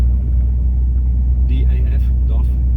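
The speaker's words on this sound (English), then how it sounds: "People who want to know what truck I'm driving a DAF" Steady low engine rumble from a DAF CF truck with an 11-litre Paccar MX engine while driving, continuous from the cab, with brief bits of a voice over it.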